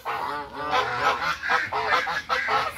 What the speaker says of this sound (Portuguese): Filmando aqui para vocês os gansos sinaleiros